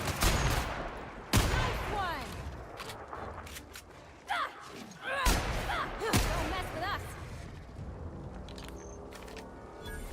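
Rapid bursts of gunfire from a new gun in The Outer Worlds video game, sharp loud cracks and short volleys spread across the clip with a brief gap between shots.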